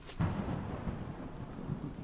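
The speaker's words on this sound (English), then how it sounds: "Yeah, it's raining." Steady rain with a low thunder rumble in the Rogue Legacy video game, a broad wash of rainfall that swells briefly near the start and holds level throughout with no voices.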